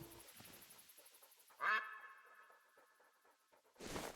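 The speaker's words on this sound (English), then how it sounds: "I heard a duck." A single short duck quack rings out in the hunting game Hunter Call of the Wild, clear but not loud, over a quiet outdoor ambience.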